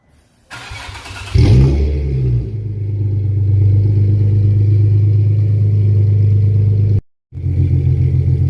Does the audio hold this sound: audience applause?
no